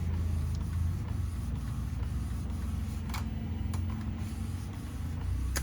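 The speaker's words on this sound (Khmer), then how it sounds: "អានេះវាព្រីនចេញមកហើយបាទហ្នឹង" An Epson L8050 inkjet printer runs steadily while printing a PVC card, a continuous mechanical whir with periodic clicks and print-head passes, close and alone.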